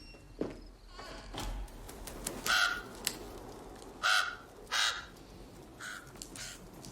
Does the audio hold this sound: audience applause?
no